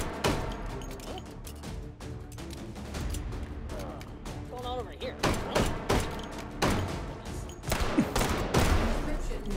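Gunfire in the VR shooter Hot Dogs, Horseshoes & Hand Grenades on a custom action map: rapid bursts and single loud shots crack close by, with thuds and clatter between them and a voice speaking briefly.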